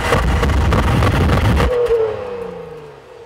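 A 2014 Honda Pilot AWD with a 5-speed automatic revs hard to 5,500 RPM in a loud, buzzy rising roar, then the engine cuts off and a fading whine tails away.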